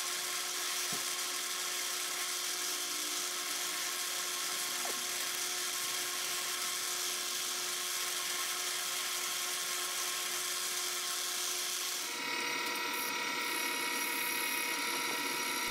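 A screwdriver shank is polished against a buffing wheel loaded with Eastwood Tripoli compound, giving a continuous high motor whine with a steady grinding hiss that grows harsher and louder near the end, with no talking.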